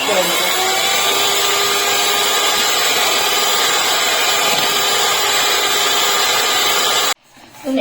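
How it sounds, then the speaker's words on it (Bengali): An electric hand mixer whirs at a steady, loud pitch while beating cream for an eggless cake batter, running continuously up close before cutting off abruptly near the end. "এখন আমি দুয়ে দিয়ে আবার দু চার মিনিট বিট করে নেব"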